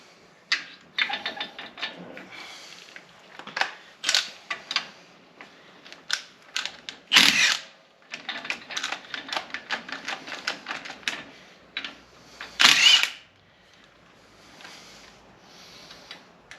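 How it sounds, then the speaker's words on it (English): A small 1/2-inch impact gun removes the dual steering stabilizer brackets on a Jeep JK. Two short, loud, rattling bursts stand out from a run of sharp metallic clicks and clatter in a workshop. "Damien, can you hand me the 1/2-inch gun, the little one? We'll get this side off"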